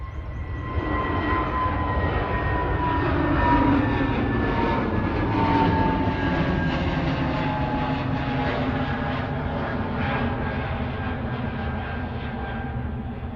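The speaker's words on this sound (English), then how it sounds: "British Airways heading down to London Heathrow, GTTNW A320 Neo." A British Airways Airbus A320neo takes off at Manchester Airport with a loud, steady jet engine roar and a rising whine. It holds strong the whole time, with no talk over it.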